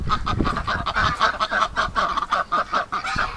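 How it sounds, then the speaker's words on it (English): Canada geese honk repeatedly in a dense, overlapping chorus beside a pen, loud and close, with rapid nasal calls continuing throughout. "the Canada geese are right beside the pen"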